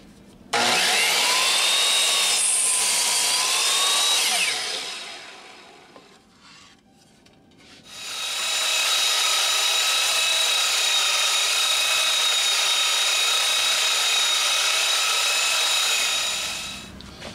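A power saw cuts wood boards to length at the 43-inch mark for a display shelf. It makes two long, loud, steady rasping cuts with a pause between them, and no one speaks.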